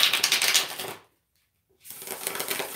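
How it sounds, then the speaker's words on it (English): Tarot cards being shuffled by hand in a rapid riffling burst, pausing for about a second of silence, then resuming with a second flurry of close, crisp card flutters and no talk. "I'm just shuffling up some cards."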